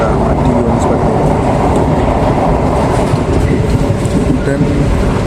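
The Wijaya Kusuma passenger train runs along the rails in Indonesia, giving a loud, steady rumble with a rhythmic clickety-clack of wheels from start to finish.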